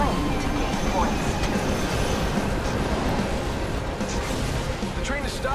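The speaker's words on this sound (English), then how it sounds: "The train is stopping at this station." A train rolls along in Apex Legends, a steady close rumble of rail noise with clattering wheels running throughout, game sounds layered over it.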